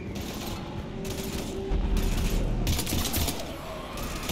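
Rapid gunfire against husks in the video game Mass Effect 3, dense bursts of automatic shots and mechanical clatter over a rumbling battle background, fairly loud with no clear talk.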